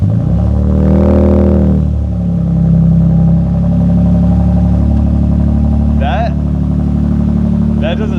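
A Gen 3 Toyota Tundra engine with a Magnuson exhaust cranks and catches, then settles into a steady, loud, deep idle rumble close by, with brief voice sounds near the end.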